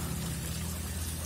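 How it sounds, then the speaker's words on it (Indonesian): Water trickling steadily into a 4 by 2.5 metre relief pond stocked with koi, a continuous soft splashing wash with a low hum underneath, even and unbroken. "mendengarkan bunyi air gemericik"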